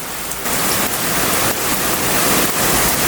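Heavy rain pours down during a violent thunderstorm in Bordeaux, a loud, dense, unbroken roar of water drumming on surfaces for the whole stretch, with brief surges in intensity.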